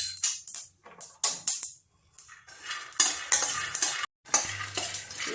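Peanuts roasting in a pan are stirred with a utensil, producing repeated rustling, scraping bursts in an uneven rhythm, close and clear, with a brief pause in between and no talking.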